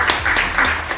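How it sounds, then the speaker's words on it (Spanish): Brief burst of audience applause at a public gathering in Madrid with an indigenous-rights speaker from Mexico, dense clapping with low voices mixed in. "alguien me aplaude."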